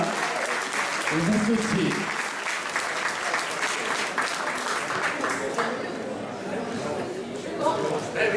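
Sustained applause from an audience at a gathering, even and continuous, with someone speaking over the clapping now and then.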